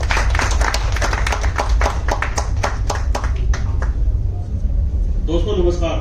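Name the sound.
audience applause welcoming speaker on stage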